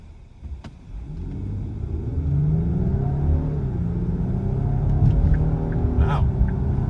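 A 2025 Lincoln Aviator with 400 horsepower accelerates hard onto a highway, its engine rumble swelling from a low drone into a sustained, loud cabin roar, with brief clicks near the end.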